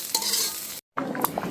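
Grated coconut frying in hot oil while being stirred, a close, steady sizzle with scraping spoon strokes, broken by a brief silent gap before the sizzling and stirring resume.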